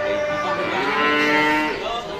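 Cow at a busy village livestock market lets out one long, loud, close moo lasting about two seconds, with a drawn-out, slightly wavering tone.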